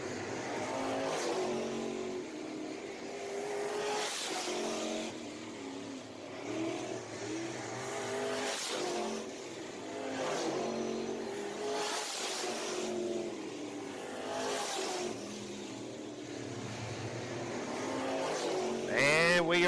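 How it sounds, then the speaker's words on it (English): Race cars lapping at Deep South Speedway, engines droning steadily with repeated whooshing passes as cars sweep by every few seconds, under continuous track noise. "Your leader, Colton Leindecker, staying smooth all the way around the Speedway"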